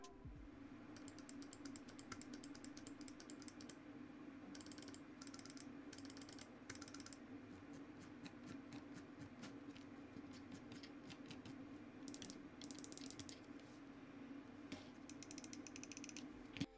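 A SteelSeries Aerox 3 gaming mouse produces bursts of sharp, close, rapid clicks and ratcheting scroll-wheel ticks, some in quick runs and some single, against a quiet low background hum.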